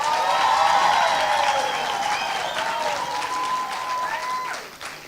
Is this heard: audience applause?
yes